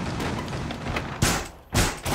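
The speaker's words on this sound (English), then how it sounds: "There's a lot of gunshots going up above me." Gunfire in Rainbow Six Siege comes from above, heard as muffled distant rumbling followed by two sharp, louder bursts of shots in quick succession.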